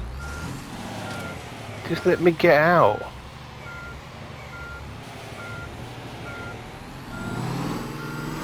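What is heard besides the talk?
truck reversing beeps in a truck driving video game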